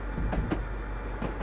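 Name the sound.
long tank train passing, video game Train Simulator 2022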